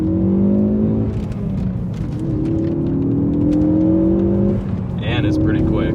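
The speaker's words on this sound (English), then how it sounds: "this blow-off valve is loud" A Ford Focus ST with a 252-horsepower engine and a loud blow-off valve drives around a block: steady loud engine drone with gear-like pitch sweeps, then a brief sharp hiss near the end.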